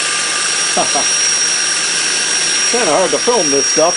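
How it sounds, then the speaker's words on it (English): A Jensen 95G steam turbine driving a 15BL generator runs with a steady high-pitched whine and broadband mechanical hiss, while someone talks over it near the end. "I'm going to turn my steam engine back on here."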